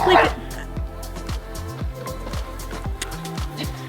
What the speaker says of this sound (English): including dogs. They're saying hello as well.